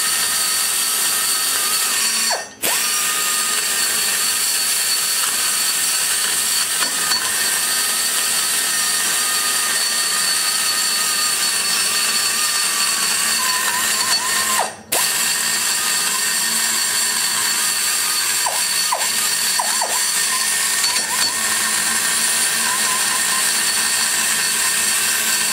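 A large carbide burr grinds inside a 2013 LS3 intake port, a continuous high-pitched whine held loud and close for the whole stretch, broken by two brief stops.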